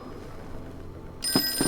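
In the Call of Cthulhu video game, a telephone starts ringing abruptly after a quiet stretch. Two bright rings sound up close over a faint background hum.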